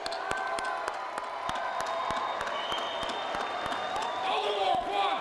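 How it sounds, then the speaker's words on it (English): An audience at a Penn and Teller magic show in London screams, yells and applauds together, a continuous roar of crowd noise and clapping with whistles and whoops rising over it. "Would you all just scream, yell, applaud, go crazy"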